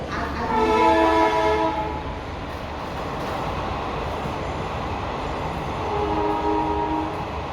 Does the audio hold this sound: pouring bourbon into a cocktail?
no